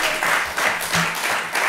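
Studio audience applauding the winner of a quiz segment on a French comedy podcast, steady dense clapping throughout a short burst with some swells.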